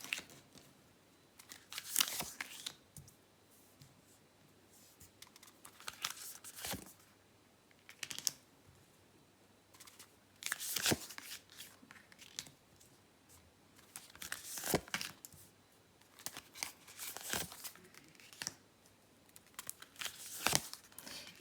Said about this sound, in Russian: Я выкладываю 3 позиции